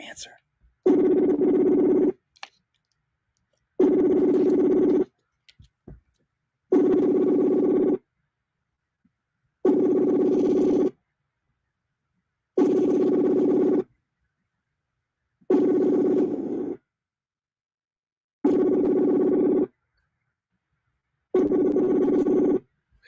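A telephone ringback tone repeats eight times in a steady rhythm, each buzzy ring about a second long, separated by longer silences.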